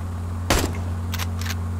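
Gunshots in the American Marksman hunting video game, one sharp loud shot followed by two quicker, fainter shots or echoes over a steady low helicopter hum.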